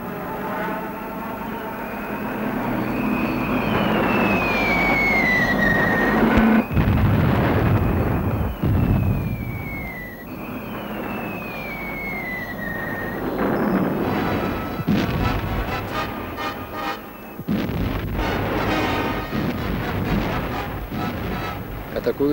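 WWII bomber aircraft drone overhead in archival wartime footage, with bomb explosions and bursts breaking through the roar, dense and loud throughout, with someone narrating over it.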